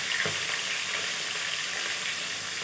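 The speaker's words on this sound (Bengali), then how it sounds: "এখন গরম তেলে মাছ ছেড়ে দিলাম" Pieces of bhola fish dropped into hot mustard oil, giving a dense, continuous hiss of frying that stays steady and close throughout, with no voices.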